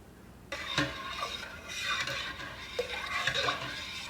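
Milk being stirred in a pot for mozzarella cheese after lipase enzyme is added, a soft sloshing swirl with light scrapes and clinks of a spoon against the pot, starting abruptly and continuing steadily up close.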